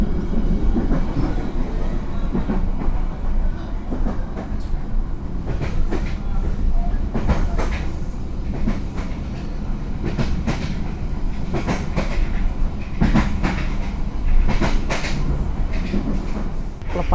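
An Indonesian business-class passenger train runs along the track, a steady close rumble inside the carriage with rhythmic clickety-clack beats from the wheels passing rail joints.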